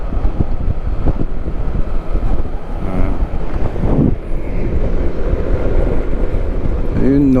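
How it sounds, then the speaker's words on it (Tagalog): Wind rushes steadily past a motorcyclist riding solo through Tarlac toward Pangasinan, a constant loud buffeting roar with engine rumble beneath, while a voice speaks intermittently over it. "sarap ng simoy ng hangin."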